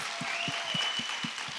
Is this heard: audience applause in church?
yes